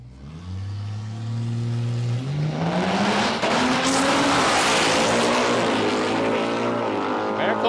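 Drag race cars, a Barra-powered Ford Falcon and a Pro Charge Mustang, idle loudly then launch, the engine note climbing into a roaring full-throttle run, with a commentator talking over it.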